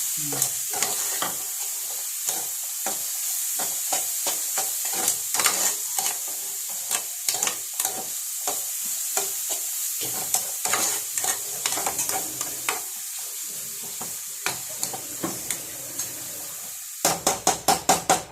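Mango chutney being stirred and fried in a pan: a spatula knocks and scrapes rhythmically against the pan over a constant sizzle, near and fairly loud, with a quick burst of taps at the end.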